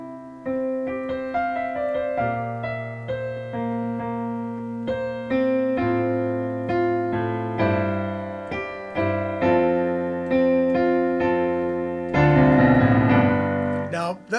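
A solo piano plays a written piece, with a bass line under chords and a melody. The notes ring and fade in a steady, moderate tempo.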